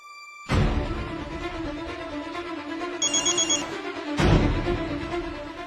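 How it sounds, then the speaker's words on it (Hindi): A phone ringback tone plays during an outgoing call, a loud ringing pattern that repeats over a steady background hum, with a short higher chime partway through and no speech. "अभी फोन लगा के पता कर लेते हैं।"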